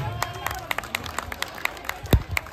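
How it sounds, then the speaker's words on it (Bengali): An audience applauds at a Durga Puja magic show with scattered, light claps spaced through the moment, and one heavier thump near the end, mixed with crowd voices and talk. "ওর জন্য একবার জোরে হাততালি হয়ে যায়।"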